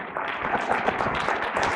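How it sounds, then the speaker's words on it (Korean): A church congregation clapping together during a sermon, a continuous mass of hand claps at moderate volume, fairly uniform with slight rhythmic swells. "날래 박수 치라고."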